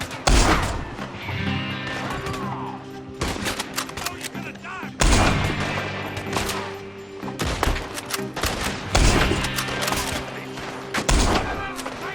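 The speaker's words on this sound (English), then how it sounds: "There's more shooting up in that building!" A shootout in Red Dead Redemption 2 with dense bursts of rapid gunfire, loud close shots over distant pops and booms. Yelling voices are heard amid the firing.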